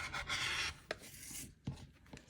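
Rotary cutter slicing through sewn quilt fabric along a ruler at a quarter inch, a rough rasping cut for about half a second, followed by a few softer scraping strokes, close and fairly quiet with no talking.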